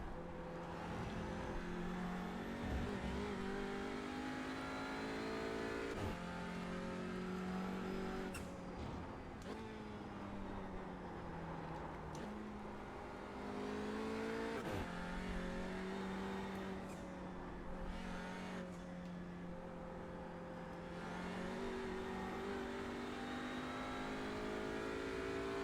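TCR touring race car at Charlotte in a racing video game, its engine droning steadily with repeated upshifts and downshifts, close and continuous, heard in-car at speed.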